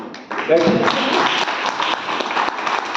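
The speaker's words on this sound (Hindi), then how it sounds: "आप लोगों से निवेदन करता हूं कि ताली बजाइए" Applause at an academic Hindi seminar held at Mizoram University, a crowd clapping steadily and densely for a few seconds, close and fairly loud, with voices audible beneath the clapping.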